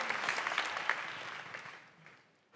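An audience at a French-language conference event applauding its three speakers, a continuous patter of clapping that thins and fades out near the end.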